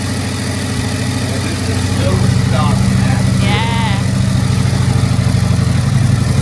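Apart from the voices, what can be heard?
motorcycle engine idling with open exhaust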